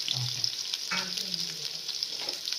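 Sliced onions go into hot oil where mustard seeds have already popped, giving a bright, steady sizzle and fry. One short stirring scrape falls near the middle, all close and alone with no talk.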